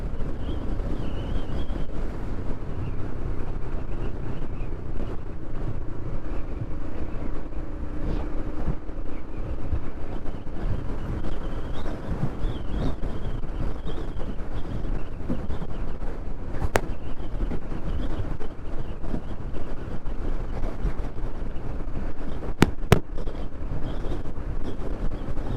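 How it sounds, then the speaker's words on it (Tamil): Heavy wind roars past during a motorcycle ride on a Royal Enfield Himalayan BS from Coimbatore toward Kodaikanal, a constant loud buffeting rush against the helmet microphone with no speech, broken by a couple of brief sharp clicks. "காற்று தான் ஹெவியாக அடிக்குது."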